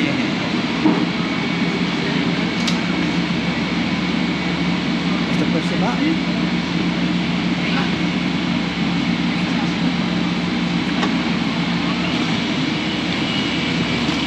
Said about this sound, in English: So we're on the train.